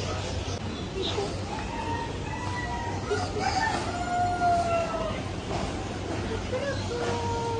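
Roosters crow in the distance at the Sharjah bird and animal market, a few drawn-out calls rising over background chatter and murmuring voices.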